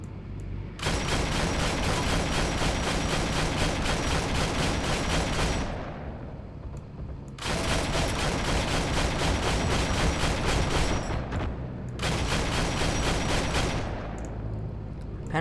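Sustained heavy gunfire in the World War II shooter Heroes and Generals, loud continuous bursts in three long stretches separated by brief lulls, close and dense with no talking.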